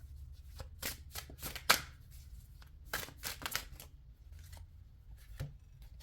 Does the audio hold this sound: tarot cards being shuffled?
yes